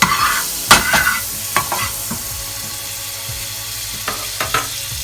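Butter sizzles in a hot pan while pancakes are made, with a steady low frying hiss broken by several sharp scraping or stirring clicks at close range and no talk.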